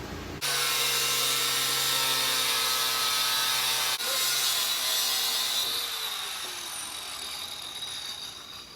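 A sawn piece cut for the rear window of a 1988 Buick NASCAR Winston Cup race car, a loud continuous mechanical rasping whine with a brief break partway and a gradual fade toward the end, no speech.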